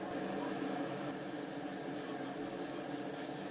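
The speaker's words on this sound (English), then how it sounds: "So I'm actually using another airbrush." An airbrush sprays grey primer onto 1:24 Aoshima Nismo Fairlady Z '07 model car chassis and interior parts, making a steady, even hiss with a faint rubbing texture that carries on without a break.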